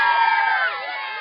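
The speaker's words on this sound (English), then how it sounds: "Insert screaming children sound effects here" A crowd of children scream and shout together, loud and continuous, with the high-pitched din easing slightly toward the end.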